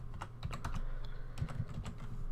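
Rapid clicking of a computer keyboard during C++ programming work, steady bursts of keystrokes close by with no talk, lasting a couple of seconds.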